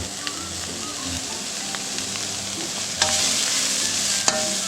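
Cockroaches being stir-roasted with garlic in a pan: a continuous close sizzle with a low steady rumble, broken by a few sharp clatters of a utensil against the pan, and no one talking.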